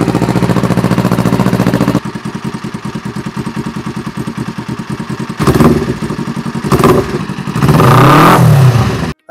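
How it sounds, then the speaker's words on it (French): A motorcycle engine restarted after a coolant drain and refill runs loud and close with a rapid, even putter, then revs in several sharp bursts toward the end, no talking over it. "on va juste redémarrer la moto"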